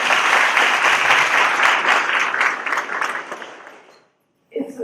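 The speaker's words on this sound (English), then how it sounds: "So please give our board members a round of applause." Guests at a chamber of commerce luncheon give a warm round of applause, dense clapping that holds for a few seconds, then tapers and fades to silence before a voice begins speaking.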